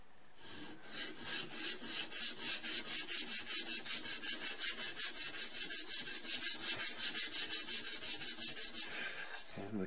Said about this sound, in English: 220 grit sandpaper.